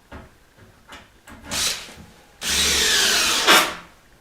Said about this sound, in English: Now I'm putting 2 screws in the end of each one of these 2x4s.